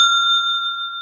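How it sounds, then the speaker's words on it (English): A single bell rings one bright, sustained tone, close and clear, fading slowly over about a second with no voices. "We will use the bell sparingly"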